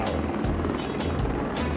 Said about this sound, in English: Get to the chopper now.